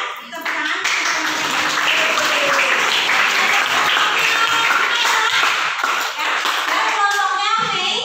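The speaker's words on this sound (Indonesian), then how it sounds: "Tepuk tangan" A class of students applauding together in a classroom, a dense burst of clapping lasting several seconds, loud and close, then thinning out near the end.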